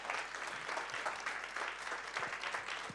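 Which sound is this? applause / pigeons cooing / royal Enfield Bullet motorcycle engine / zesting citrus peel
applause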